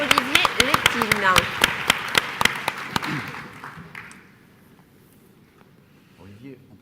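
An audience claps for the Biarritz tourism office director at a tourism conference, with sharp, irregular claps over murmuring and a voice, the applause thinning out and dying away after about four seconds.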